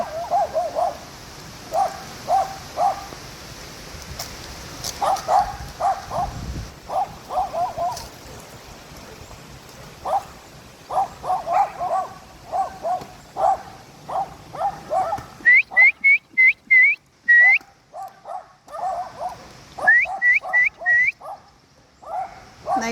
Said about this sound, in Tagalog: ang daming aso dito guys pero hanggang tahol lang yan